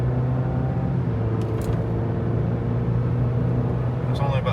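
A 2025 Chevy Colorado pickup accelerates at about half throttle, its engine giving a steady low drone and road rumble from inside the cab, with a voice speaking over it.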